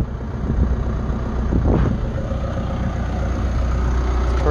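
A Chevrolet Colorado with a 2.8 Duramax diesel and a Garrett Powermax turbocharger, running without an exhaust, idles at first start in a loud, steady low rumble with a brief rise in pitch early on, with no talk.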